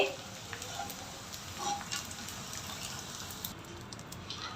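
Edible gum (dink) frying in ghee makes a soft, continuous hiss and bubbling sizzle at a moderate level, steady from start to finish.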